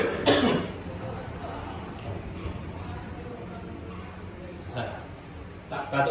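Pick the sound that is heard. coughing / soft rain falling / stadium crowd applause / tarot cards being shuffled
coughing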